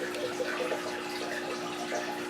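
Water splashes steadily into an Oscar fish tank, a continuous, close bubbling pour with a constant level and no talking.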